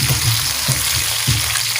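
Sliced onions frying with cumin seeds in a pan, a loud close sizzle throughout, with low scraping thumps from stirring recurring about every half second and no speech.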